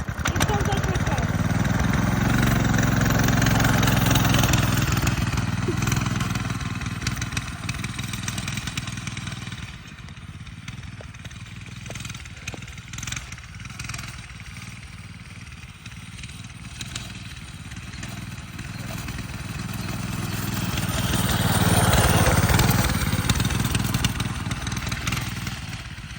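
A small minibike engine runs close by, a buzzing mid-pitched drone that dips in volume in the middle and swells again as it comes nearer, with people talking over it.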